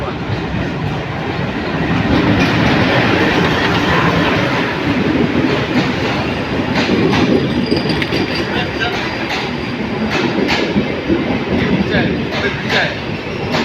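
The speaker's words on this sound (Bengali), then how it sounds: "এখন এই ট্রেনটি চলে যাবে চিলাহাটি" The Simanto Express passenger train passes through Saidpur station at close range, a continuous loud roar with rattling wheels and faint clacking over the rails, steady throughout.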